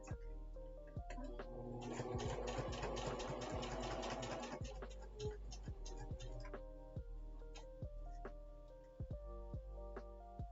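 A sewing machine stitches appliqué stars in a rapid mechanical run that builds and then slows into separate spaced stitches, close and fairly quiet, with no talking.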